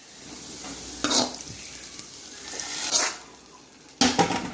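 Curry poured into a pan of tempered dry fish for village-style karuvattu kuzhambu, giving bursts of loud hiss and sizzle with a stirring clatter, close up and with no talk.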